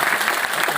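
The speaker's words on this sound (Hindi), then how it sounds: "जोरदार तालियां होती है।" Audience applause at a Constitution Day celebration event in Delhi, a brief burst of dense clapping from a crowd, loud and close, without speech.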